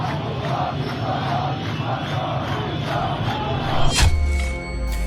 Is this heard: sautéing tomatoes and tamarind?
no